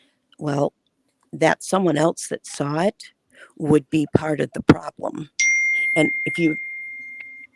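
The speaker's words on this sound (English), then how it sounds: "Something went real loud ding." A loud, ringing phone notification ding for a text message, starting abruptly and sustaining for a couple of seconds as a voice keeps talking over it.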